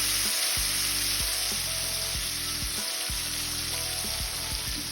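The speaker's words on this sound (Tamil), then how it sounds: "சூடு எண்ணெயில் விடும்போது தெளிக்கும்" Tamarind extract is poured into hot oil over sautéed ingredients for temple-style puliyodharai and sets off a loud, continuous sizzle and spatter. Close by, a spoon or ladle knocks repeatedly against the pan in a loose rhythm, and no one speaks.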